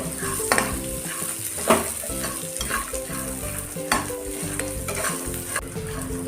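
Green chillies with a spoon of salt sauté in a little oil for Maharashtrian thecha, a steady close sizzle broken by frequent stirring scrapes and spoon taps against the pan, with no talking.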